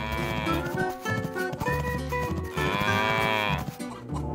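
Loud, drawn-out cow moos over a busy, cartoonish backing of music, two long lowing calls with a break between them.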